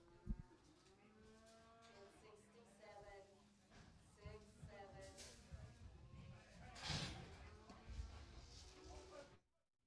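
Cattle low and moo repeatedly in long, close calls in the pens at the Clinton Stockyards livestock auction, mixed with voices and a few knocks until the sound cuts off at the end.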